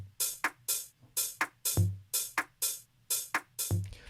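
Dry percussive drum loop built from short electronic hits with no reverb tail, playing a steady, tight repeating pattern of crisp clicks and low thumps, each hit stopping abruptly, with no voices.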